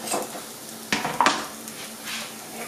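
Finely chopped onion dropping into a pot of hot fat for a homemade chanterelle mushroom soup, a soft sizzle with a couple of sharp scraping clatters of a utensil partway through.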